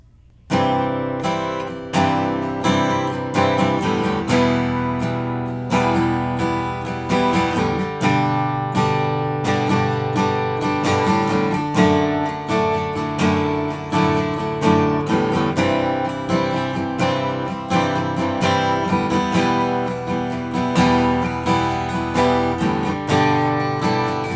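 Acoustic guitar strumming the chorus of a song: loud, close, rhythmic chord strokes in a steady pulse that runs continuously without any voices.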